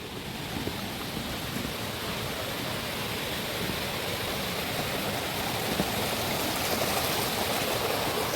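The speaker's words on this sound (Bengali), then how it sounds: "এখানে জলধারা বয়ে চলেছে" Water rushes steadily at Bada Ghagara waterfall in Keonjhar, Odisha, a dense, continuous roar heard from near a bridge at the entrance, loud and unbroken with no talking.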